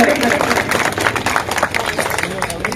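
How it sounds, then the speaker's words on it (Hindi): Rally audience in a large outdoor public meeting clapping loudly to welcome a speaker, with dense, ragged applause close by that fills the whole stretch. "सम्मानित गोविंद सिंह डोटासरा जोरदार तालियों के साथ स्वागत करें, अभिनंदन करें।"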